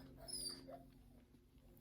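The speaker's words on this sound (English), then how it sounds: "Sorry, excuse my dog." A pet dog whimpers softly indoors, a couple of short high whines near the start over a low steady room hum, then the room stays quiet.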